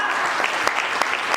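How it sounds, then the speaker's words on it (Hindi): Applause from an audience at a network marketing training session, given for a man called Govind bhaiya; a steady wash of many hands clapping with a few sharper claps standing out, no talking over it. "तो जोरदार तालियां गोविंद भैया के लिए"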